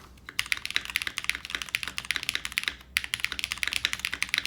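Fast typing on a mechanical keyboard fitted with a Nixie spacebar gives dense, crisp clacks in quick bursts, close and fairly quiet, with a brief pause partway through.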